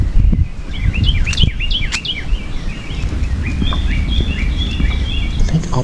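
Wild birds sing and chirp at Anastasia State Park in St Augustine, Florida, with repeated bright whistled calls over a rustling, breezy outdoor background.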